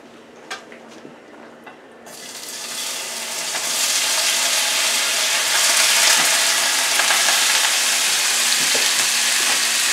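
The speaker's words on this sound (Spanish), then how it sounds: "ya estoy lista para poner mis camarones y mis scallops aquí en mi olla" Shrimp and scallops hit hot oil in a pot, a quiet start giving way to a loud, steady sizzle that swells after two seconds and holds with crackling spatters to the end, no voices.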